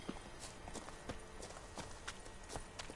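Roach, Geralt's horse in The Witcher 3, walks with quiet, even hoofbeats, a soft and steady clip-clop close by with no talk.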